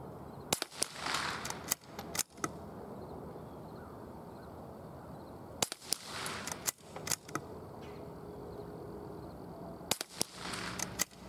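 Rifle shots at an outdoor shooting range, fired with a scope: sharp, loud cracks come singly or in quick pairs, separated by several seconds of quiet outdoor background.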